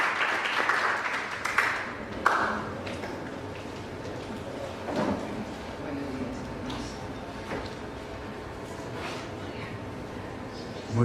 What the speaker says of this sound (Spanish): les pido recibir con un caluroso aplauso